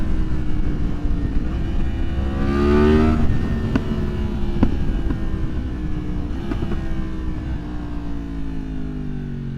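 Yamaha MT-10 motorcycle with a Leo Vince exhaust, de-catted, pulling hard through third gear: a loud, close, steady engine roar whose pitch climbs and swells mid-way, with sharp exhaust crackles and pops scattered through it.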